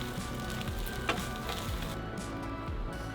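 Two eggs are scrambled into fried rice in a hot pan, giving a dense, continuous sizzle with brief stirring scrapes. The sound is close and steady, with no talk.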